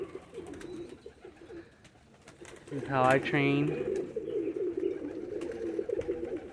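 Young roller pigeons cooing inside a loft, soft low coos and wing flutters at close range, with someone speaking briefly over them.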